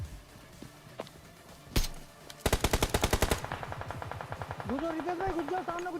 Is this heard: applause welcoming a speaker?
no